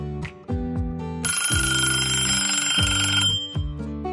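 An alarm rings loudly at a bedside at six in the morning, with repeated descending electronic tones giving way to a sustained shrill ringing that then fades back into the tones.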